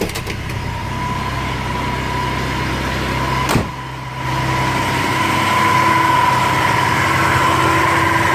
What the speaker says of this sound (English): Maybe I'll walk outside and show you guys the engine running.